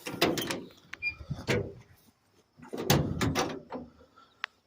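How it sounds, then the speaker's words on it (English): The doors of a 1990 Chevrolet G20 van are opened, giving a few close mechanical clunks and latch sounds with short pauses between, then a sharp click near the end; fairly quiet setting. "Open the doors."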